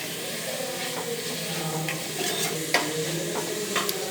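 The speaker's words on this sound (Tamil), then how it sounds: "இந்த மாதிரி நல்லா வதக்கிட்டே இருக்கணும் ஃப்ரெண்ட்ஸ்." Onions sauté in a pan while being stirred, giving a steady, close sizzle with occasional light scrapes and clicks of the utensil against the pan.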